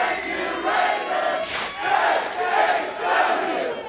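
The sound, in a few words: wrestling crowd cheering on their feet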